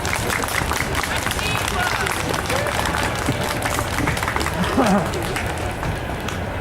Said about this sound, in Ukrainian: Ще раз оплески